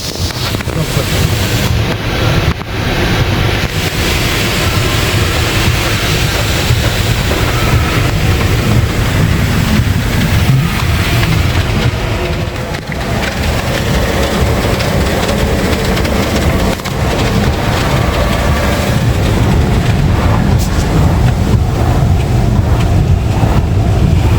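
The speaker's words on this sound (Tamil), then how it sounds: "இப்போ சோப் சொல்யூஷன் ஸ்ப்ரே ஆகும்." Loud, continuous spraying and rushing water with a broad hiss, steady throughout, as an automatic car wash sprays soap solution over a car in Qatar.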